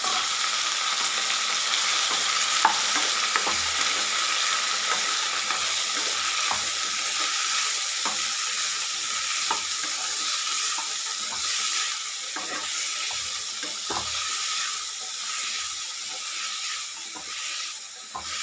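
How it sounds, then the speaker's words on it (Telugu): Pieces of ridge gourd fry in hot oil in a pan, giving a steady, close sizzling hiss throughout, with faint intermittent scrapes and taps as they are stirred. "తర్వాత బీరకాయ ముక్కలు వేసుకోవాలి"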